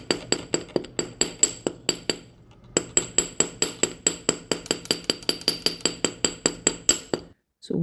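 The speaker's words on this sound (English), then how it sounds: "and then hammer it to hold shape." Wire for a rainbow moonstone pendant struck with a small jewelry hammer, a fast run of sharp metallic taps with a short pause partway through, close and crisp with no talking.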